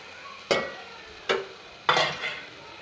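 Chopped egg is stirred and lightly fried in a pan, with three sharp scraping stir strokes at regular intervals, each followed by a brief sizzle over a quiet background.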